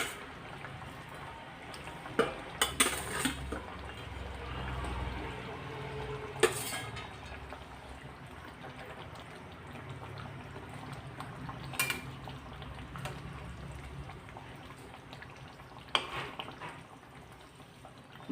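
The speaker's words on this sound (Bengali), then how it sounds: "গ্রেভি ফুটতে শুরু করেছে, এই সময় আমি ভেজে রাখা মাছগুলো দিয়ে দিচ্ছি" Fried parshe fish slid into a bubbling, boiling fish curry gravy in a pan, giving scattered clinks of utensils and brief splashes over a steady low simmer, with no talking.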